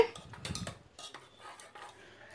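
Mutton bhaji being stirred and mashed in a pan over full flame: a spoon scrapes and taps the pan in a cluster of quick clinks, followed by softer intermittent scrapes, close and fairly quiet.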